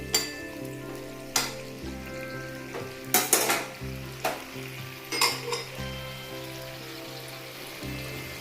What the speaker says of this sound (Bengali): দেখুন অল্প অল্প ফুটছে,